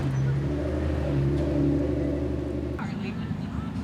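A car rolling up at a Pacific Northwest enthusiast car show, a low rumbling engine idle and creep close by, with the tone dropping near the end as it eases off, and people talking over it.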